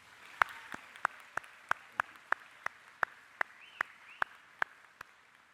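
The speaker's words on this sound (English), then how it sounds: "giving them a return round of applause" A few sparse, evenly spaced claps from a graduation ceremony audience, about a dozen sharp separate hand claps ringing out in a hall rather than full applause, with no talking.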